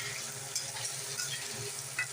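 Potatoes frying with curry leaves and black mustard seeds in a pan, a soft continuous sizzle with light stirring scrapes and occasional small pops.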